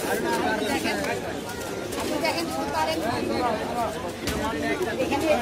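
Pigeons coo steadily at the Mirpur-1 pigeon market in Dhaka, their soft repeated calls blending with a constant crowd hubbub and background chatter from nearby traders and buyers.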